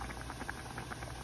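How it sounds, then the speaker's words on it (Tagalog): Shrimp boil in a pot, giving a faint, steady bubbling and gentle patter beneath a constant low background hiss. "Hinayaan lang muna natin kumulo yan."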